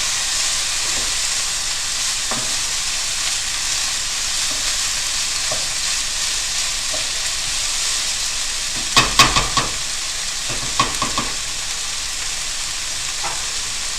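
Vegetables stir-frying in a hot pan, a steady bright sizzle running throughout with a few louder clatters and bursts as the food is tossed and moved around near the middle.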